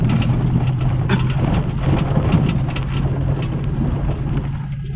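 Ford F-150 pickup with the factory muffler cut off and a welded glass pack and turn-down pipe, rumbling steadily at idle, a continuous low, throaty drone that stays even throughout with no talk.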